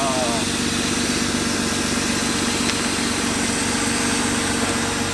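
A BMW E36 drift car's engine idling quietly, a steady low rumble running evenly and unchanging, close by with no voices.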